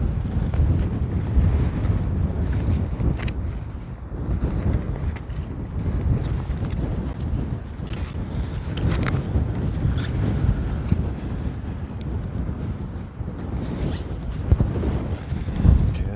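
Strong, gusty wind at an outdoor campsite buffets the microphone with a constant loud roar that swells and eases, with no voices.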